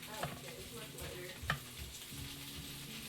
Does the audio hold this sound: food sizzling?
yes